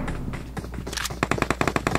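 A gun in the video game PUBG Mobile fires a fast, rhythmic burst of loud, close shots after a brief stretch of noisy game ambience.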